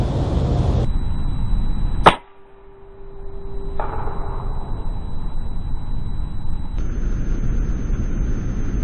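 A sharp, single airgun crack from an Edgun Matador R3 in .25 firing a Predator pellet at a squirrel, a loud close snap followed by a brief hush and a faint tonal ring, with steady outdoor background before and after.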